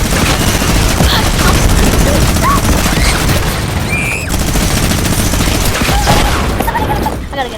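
Video game combat with a rocket launcher and gunfire, a dense, loud, continuous barrage of shots and booming blasts that barely lets up for the whole stretch.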